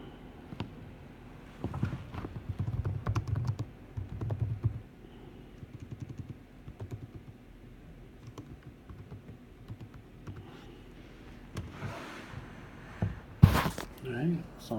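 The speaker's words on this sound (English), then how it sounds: "So now I'm going to type," Fingers tap out a question on a computer keyboard in short, uneven bursts of soft clicks, close but quiet, followed by scattered handling noises near the end.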